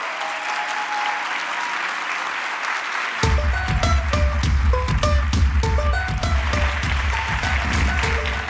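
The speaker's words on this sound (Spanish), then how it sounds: "con un cariñoso aplauso recibimos en este escenario Teatro Oriente a Fabiola" In the Teatro Oriente at a congress, an audience gives warm applause to welcome a speaker to the stage. The dense clapping is steady throughout, and bright music with a heavy bass line joins partway through and continues under it.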